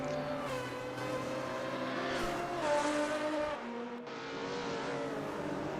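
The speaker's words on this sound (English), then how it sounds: "It's great listening to all the different car sounds as well, as they roar down these two very long straights." Several race cars roar past continuously down a long straight at the Adelaide circuit, engines droning at high revs with shifting pitch, loud and steady with no talking.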